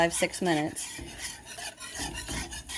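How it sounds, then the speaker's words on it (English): A whisk scrapes steadily around a pan of simmering beef stroganoff sauce, giving close, continuous rasping strokes with no talking. "just don't stop whisking it"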